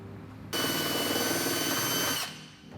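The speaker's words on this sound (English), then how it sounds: "we're just going to drill a hole with our hole saw on this nice flat spot here" A power drill with a hole saw cuts into a flat spot, whining steadily and loudly for nearly two seconds before spinning down.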